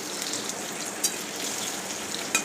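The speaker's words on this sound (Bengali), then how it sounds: "ভাজা হয়ে গেলে এর মধ্যে আলুগুলো ভেজে তুলে নিতে হবে।" Potatoes frying in hot oil in a wok, a steady soft sizzle and crackle with a couple of brief sharper pops, close and even throughout.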